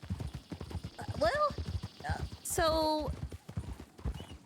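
Video game horse hooves clip-clop in a steady, close rhythm beneath a voice, with a horse's whinny rising briefly in the middle.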